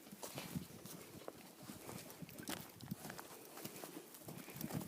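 Ponies on a farm eating corn as they are fed, with close hoof clops and shuffling that continue steadily alongside muffled chewing and movement.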